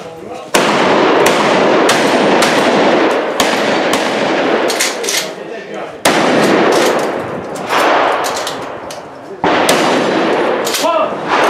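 Loud, close blasts from tactical 12-gauge shotguns on a firing line in a training session, several sharp reports at irregular intervals, some overlapping, with the range's din ringing between shots.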